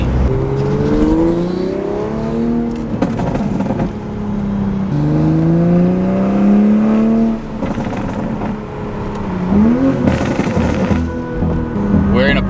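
Several Toyota Supra engines rev and pull away nearby from a gas station, pitch rising and falling as they accelerate one after another, with a steady engine drone throughout.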